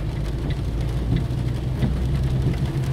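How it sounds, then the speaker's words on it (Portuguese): Heavy afternoon rain in Luiz Eduardo Magalhães pours down in a continuous, dense wash over the street, with a low vehicle rumble running beneath it and no voices. "Agora à tarde, muita chuva."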